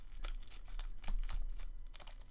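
A vellum sticker sheet peels off its adhesive backing with faint, soft crinkling and tearing rustles, close and quiet, with no talk.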